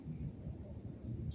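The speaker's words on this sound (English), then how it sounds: "It's the air show uh, at the beach." Low, rolling rumble of air show aircraft passing over a cloudy beach, sounding like distant thunder, steady throughout with a brief hiss near the end.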